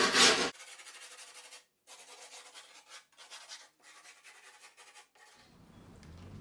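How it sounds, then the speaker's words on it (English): Rough, scratchy rubbing strokes along the edge of grip tape on a skateboard deck, repeated in short bursts with brief gaps, close up with no talking. "just kind of rub this around the edge of the grip tape"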